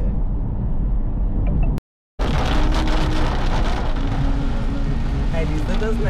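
Heavy rain pours down steadily while riding through a downpour on a road with traffic, a loud, dense wash of rain that cuts out briefly, then returns just as hard.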